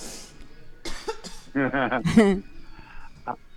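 A person at a comedy club coughs and hacks harshly several times in a row, close to the microphone, with rough throaty bursts.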